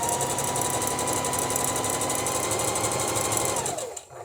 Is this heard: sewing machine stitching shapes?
yes